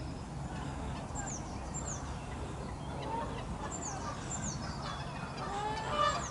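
Geese honk in a park at Ferry Meadows, Nene Country Park, a few faint distant calls scattered over steady outdoor ambience.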